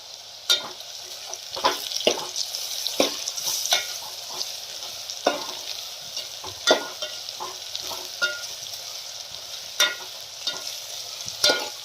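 Eggplant frying in oil in a pan, a close hissing sizzle broken by sharp, irregular spatula scrapes and knocks against the pan, recurring every second or so throughout, with no talking.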